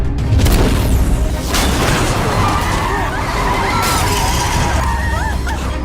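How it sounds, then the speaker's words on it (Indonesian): A car crashes after a sniper attack in an action film, a loud continuous scene of rumbling booms, screeching skids and crunching impacts that stays dense and intense throughout. "Mobil mereka ini kecelakaan dan sniper ini menembak dan menghabisi semua anggota tim."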